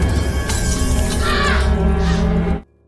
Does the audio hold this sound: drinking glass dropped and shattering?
yes